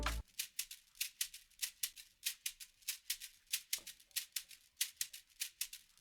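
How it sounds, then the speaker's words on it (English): Second programmed shaker layered into an FL Studio Afrobeat, rapid bright shuffling hits in a tight repeating pattern, alone and up front after a brief low thump at the start. "this another shaker. It sound like this."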